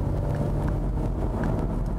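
An Audi A4 Quattro 3-litre Sport automatic cruises along with a steady, smooth engine hum and road rumble heard from inside the cabin, moderately loud and unbroken.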